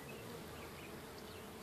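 Honey bees from a top bar hive colony buzz in a dense, continuous drone close by, loud and steady throughout with no voices.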